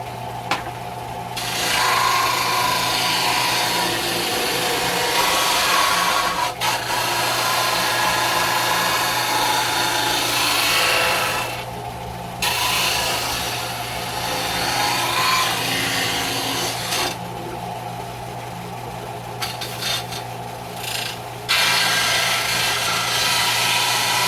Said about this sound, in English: So let's show you a little bit of sanding.